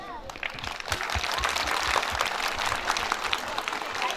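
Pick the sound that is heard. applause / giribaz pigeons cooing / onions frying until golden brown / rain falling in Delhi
applause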